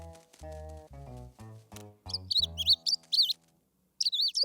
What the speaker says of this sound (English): I have to take care of the baby bird.